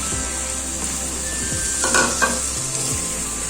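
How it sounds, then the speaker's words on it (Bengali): Pieces of kakrol and potato bubbling in a pan of gravy, giving a steady, close hiss and sizzle with an occasional light scrape of a spoon and no voices. "এবার আমি গ্রেভির মধ্যে কাঁকরোল আলুগুলোকে একটু ফুটিয়ে নিচ্ছি।"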